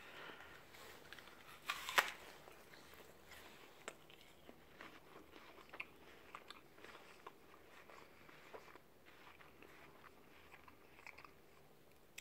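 Someone bites into a Rosavka apple with one crisp snap, then chews quietly in soft, irregular crunches and wet mastication sounds up close.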